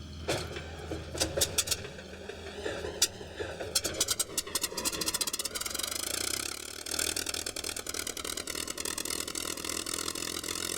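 A Rolls-Royce Merlin 61 engine in a P-51B Mustang fighter plane runs with an uneven, sputtering start, then settles into a steady, vibrating drone at moderate distance.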